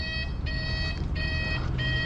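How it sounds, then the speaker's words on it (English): A neighbor's vehicle reversing alarm repeats steady high electronic beeps in a regular on-off rhythm, about three pulses over two seconds, heard from nearby outdoors over low background rumble. "What's that alarm for? I'm busted. Oh, our neighbor's reversing."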